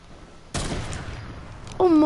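A loud burst of video game gunfire, a rapid volley of shots that starts abruptly and runs on, followed by a brief tonal electronic game sound.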